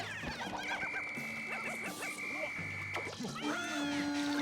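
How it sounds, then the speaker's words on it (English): Pink Pikmin creatures in Pikmin 3 chirping and squeaking with high warbling calls and short tonal whistles, steady game background underneath. "Get used to the pink Pikmin noises,"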